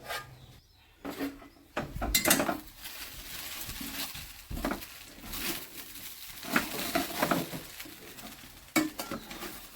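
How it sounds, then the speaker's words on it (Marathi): A small basket of household dishes and pots being washed by hand: intermittent metallic clanks and clatters of utensils knocking together, with running-water patter between them, close and moderately loud, no one speaking. "एक छोटं टोपलं बस एवढेच भांडे धुवायचे"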